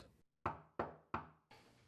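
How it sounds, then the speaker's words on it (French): Three sharp, loud knocks on a door at an even pace in a home living room, followed by a softer fourth thud, each one ringing briefly before fading. "cogne à la porte"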